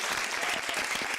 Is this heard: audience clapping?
yes